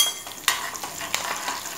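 Cumin, asafoetida, curry leaves and sesame seeds crackle in hot oil for a semolina dhokla tempering, a soft, close sizzle broken by a few sharp pops and light stirring clicks.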